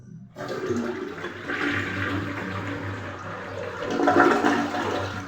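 A loud toilet flush rushes and gurgles close up, water swirling strongly for several seconds before surging again near the end.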